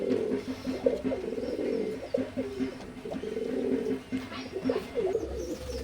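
Teddy pigeons of an imported KTM bloodline cooing and calling close by in a loft, overlapping soft throaty coos repeating throughout with faint background noise.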